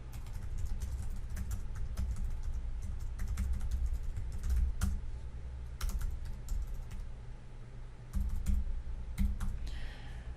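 Rapid, uneven keystrokes on a computer keyboard as someone enters information into an app. The clicking is close and fairly quiet, and it runs continuously with no talking.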